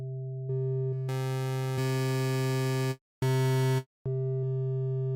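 Sine wave voices in the Vital synth plugin hold a steady harmonic tone, then spread out into a denser, brighter chord-like texture, cutting out briefly twice before resuming, with no talking.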